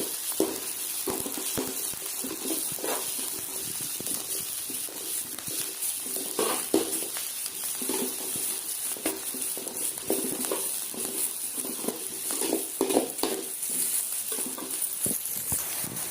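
Onion and garlic sauté in a pan with a steady, dense sizzle and scattered crackles and stirring scrapes throughout, fairly close and without talk.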